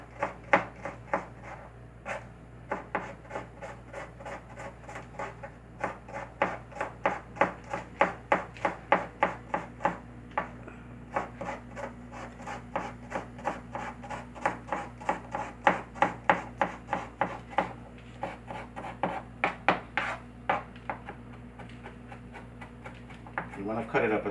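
A knife chops garlic finely on a board in a home kitchen, making a long run of quick, irregular taps that sometimes bunch into rapid bursts and stay close and crisp, with a voice present at times.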